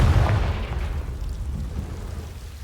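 A deep, booming blast from the Confringo spell in the video game Hogwarts Legacy hits loud at once, then rumbles and fades away over a couple of seconds.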